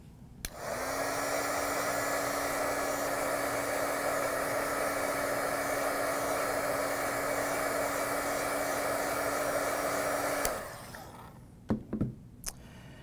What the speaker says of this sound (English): we're just going to zap this real quick with the heat gun.